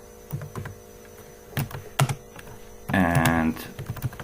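Computer keyboard typing while entering input for a C++ program, a few scattered keystrokes over a steady electrical hum, with a voice talking in between.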